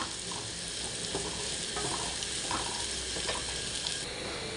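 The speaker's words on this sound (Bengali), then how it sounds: "আমরা ভালো করে একটু নেড়ে পেঁয়াজটাকে একটু লাল লাল করে ভেজে নিব।" Sliced onions and green chillies fry in hot oil in a pan, a constant sizzle with occasional scraping clicks as they are stirred, close and moderately quiet.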